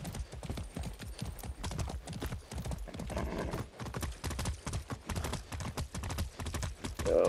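Steady hoof clip-clops from a horse in Far Cry 6, rhythmic and close, with a brief whinny near the end and a dense game soundscape underneath.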